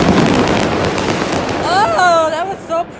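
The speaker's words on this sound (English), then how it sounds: "My brother came over to watch the fireworks in DT, LA." Fireworks burst over downtown Los Angeles in a dense run of booms and crackles, then whistling rising trails climb through the last half, loud and close, with people talking over them.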